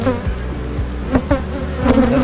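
Swarmed honey bees cluster on a hive frame heavy with bee bread, a loud close buzzing hum that swells and wavers, with a few wingbeat whines rising briefly.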